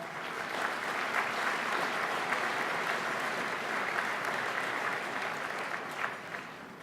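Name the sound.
audience applause at business awards ceremony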